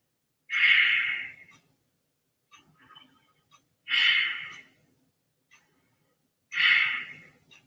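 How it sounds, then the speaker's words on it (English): Three deep breaths at a calm, even pace, each a long breathy exhale with quieter inhales between, close and alone during a yoga routine. "deep breaths."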